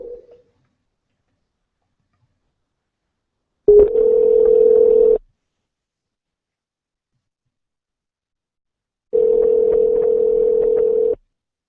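A telephone dial tone sounds while a call is placed, two steady, loud, clean buzzing tones of about one and a half and two seconds each, separated by silence, with a short blip at the very start.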